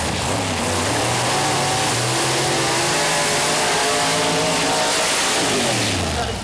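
Pontiac Grand Am pro mod door-slammer drag car at Mooresville Dragway roaring loudly and continuously, engine pitch climbing steadily as it accelerates down the strip.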